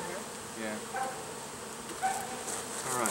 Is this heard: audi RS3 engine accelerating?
no